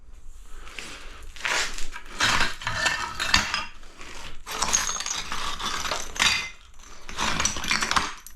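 Drywall mud being mixed in a pan gives loud scraping and clattering strokes of metal against metal, in repeated uneven bursts close by, with no talking.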